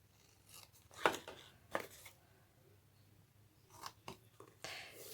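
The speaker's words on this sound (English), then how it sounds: "with your scissors, you're going to cut away that small rectangle right there." Scissors snip paper stock while a small gift box with a handle is cut out, giving two sharp close snips early on, then a few quieter paper rustles and rubbing sounds.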